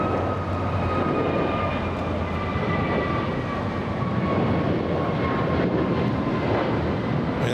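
American Airlines airliner at LAX, a steady broadband jet roar with a faint high whine, loud and sustained throughout.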